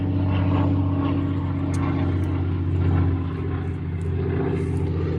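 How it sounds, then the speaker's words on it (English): A float plane passes overhead above a garden, its propeller engine droning loud and steady with a low rumbling hum that swells and eases slightly, no voices over it. "There's a float plane above us."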